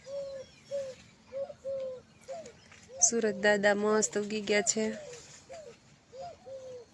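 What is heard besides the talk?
birds calling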